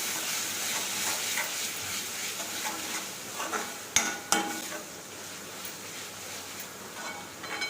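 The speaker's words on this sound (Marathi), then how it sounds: "जी मी मसाल्याची पेस्ट केली ती टाकून घेते हे चांगला हलवून घ्यायचं" Masala paste for black chana masala is stirred and fried in a pan, sizzling steadily with scraping spoon strokes and two sharp clinks against the pan, quiet and close, with no talking.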